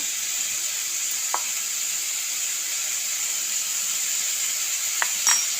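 Turmeric and chili powder frying in a pan give a soft, steady sizzling hiss, broken by a few faint stirring clicks.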